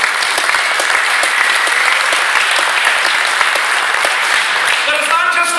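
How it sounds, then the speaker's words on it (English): Loud, sustained applause from a large audience at an IFA 2012 keynote, dense clapping throughout with crowd noise mixed in. "Let's give it up. Let's hear it for sports, please."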